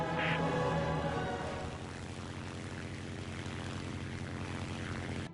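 Propeller aircraft engine droning steadily in flight in War Thunder, a loud, continuous hum close by with no pauses, its tone steady across the whole stretch.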